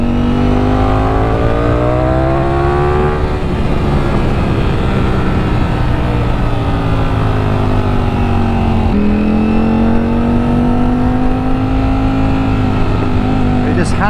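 Ducati Streetfighter V4S motorcycle engine pulling hard, loud rising pitch climbs with a gear change midway, continuous and close throughout.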